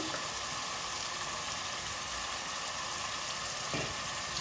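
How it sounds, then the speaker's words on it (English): Lamb searing in garlic and ginger paste for a British Indian restaurant-style railway lamb curry, giving a steady, moderate sizzle and crackle with a faint clink of stirring near the end and no talk. "we're going to seal the lamb in that garlic and ginger paste"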